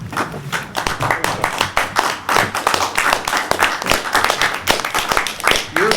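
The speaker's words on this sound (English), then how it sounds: "You're clapping, not me" Dense, steady clapping from an audience fills the room for several seconds at a Great Books discussion session on C.S. Lewis, with rapid overlapping hand claps at an even, moderate level.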